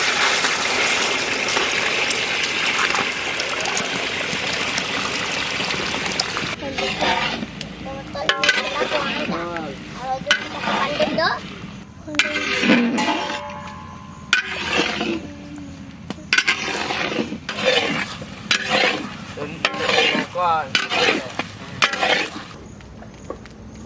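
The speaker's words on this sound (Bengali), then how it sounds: "এবার আমরা ডিম ভেজে নেব।" Eggs frying in hot mustard oil in a wok for a large village batch of egg chowmein: a loud, steady sizzle fills the first several seconds, then people talk over a quieter hiss.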